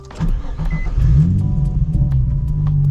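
A Nissan 350Z engine revs up from idle into a smooth, rising roar, close by and loud, then settles into a steady throaty rumble.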